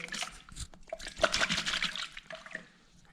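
Water trickles and drips out of the flooded throttle body of a Yamaha FZ6S motorcycle, close-up irregular gurgling and splashing that tapers off at the end.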